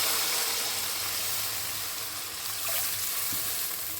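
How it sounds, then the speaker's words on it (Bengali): Water goes into a pan of frying spice mixture with a loud, steady hissing sizzle that carries on throughout and stays close and unbroken. "এখন আমি এর মধ্যে জল দেবো।"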